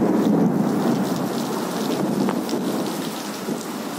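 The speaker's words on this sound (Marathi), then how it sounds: "मोठ्या प्रमाणात विजांचा कडकडाट या पडणाऱ्या पावसासोबत आपण या ठिकाणी ऐकता।" Heavy daytime downpour over Latur city, a dense, loud, steady roar of rain hitting surfaces with low rolling thunder underneath, continuous throughout with no voices.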